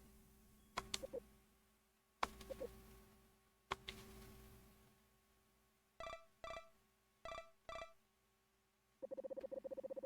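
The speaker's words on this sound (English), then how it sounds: "I wake to the noise of my phone ringing." A phone in a dark, quiet room: several sharp taps and clicks first, then short bursts of electronic tones in a repeating pattern, ending in a rapid buzzing trill, faint and alone.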